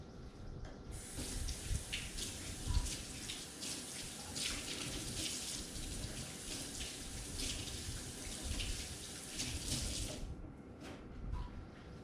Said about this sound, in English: So, wash my hands.